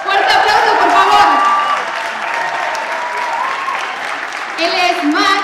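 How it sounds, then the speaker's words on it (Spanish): Television studio audience applause mixed with cheering voices and an announcer talking loudly over it, steady throughout with a brief swell near the end. "¡Fuerte aplauso, por favor!"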